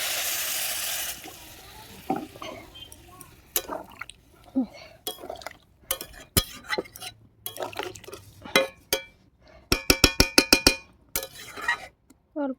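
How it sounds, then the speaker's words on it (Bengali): Water goes into a jackfruit curry cooking in a pan, giving bursts of sizzling and splashing, then a rapid run of sharp clinks and scrapes as it is stirred, close by, with a voice speaking at times. "অল্প জল দিয়ে দিচ্ছি।"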